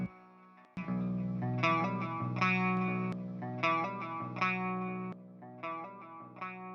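Guitar phrases sent through a darkened delay with the low end filtered out, repeating notes trailing off in soft, muted echoes between plucked chords, moderately quiet and without voices.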